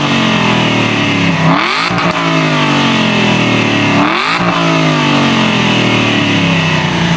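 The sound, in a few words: Aston Martin Vantage engine revving through exhaust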